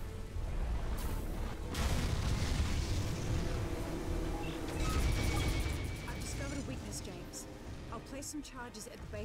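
In the James Bond 007: Nightfire video game, a Tau pulse cannon fires in heavy, rumbling blasts amid mechanical noise and explosions, with a rapid stuttering burst of shots near the end while someone talks over it.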